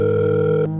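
A steady telephone dial tone hums loud and close for under a second, then cuts off abruptly.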